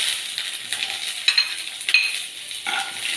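Small shallots and two or three garlic cloves sizzling and frying in a pan, a steady crackling hiss with occasional stirring scrapes, close and alone.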